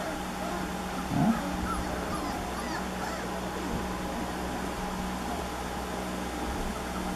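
A puppy, fresh from eating and getting playful indoors, gives a brief whimper early on, faint against steady room hum, with quieter stirring afterward.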